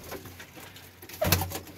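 Pet pigeons kept at a home loft coo softly, with a low, faint coo rising briefly near the end over quiet background rustle.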